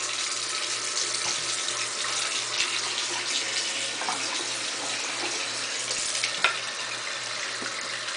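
Tap water runs steadily from a faucet as hands are rinsed, a close continuous hiss and splash with small clunks, lasting throughout without talk.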